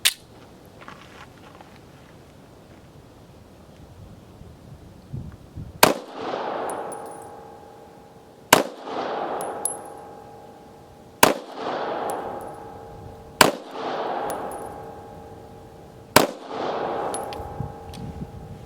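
A Taurus 709 Slim pistol fires cheap, poor-quality ammunition: six sharp, loud gunshots spaced about two to three seconds apart, each followed by a ringing echo.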